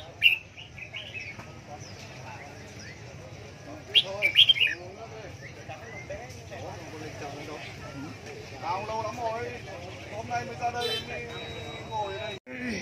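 Small caged birds at a Vietnamese songbird market give scattered chirps and tweets, with a brief louder flurry, mixed into busy market chatter as people talk nearby throughout.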